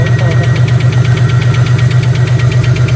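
First start of a Buick car engine, idling steadily and close with a loud low rumble and a fast regular ticking knock running through it, no voices.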